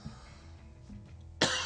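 A single short, loud cough bursts out near the end after a quiet stretch, close to the microphone in an indoor homebrewing chat about a pale ale recipe.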